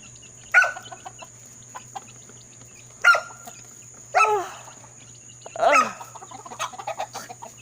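Chickens cluck and squawk in a few separate loud bursts spread over several seconds, close by in a quiet morning farmyard with a steady faint background hum.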